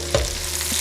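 Carrots and sausage sizzle in a frying pan while cooking Southern fried cabbage, producing a steady close hiss with a brief stirring clatter near the start and no talking.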